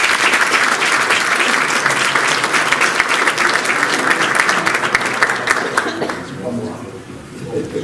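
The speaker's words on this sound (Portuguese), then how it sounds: "uma salva de palmas para ela." Audience applause at a Portuguese political talk event for the 2024 legislative elections, a loud sustained round of clapping from a full room that fades out near the end, with a voice beginning to speak underneath.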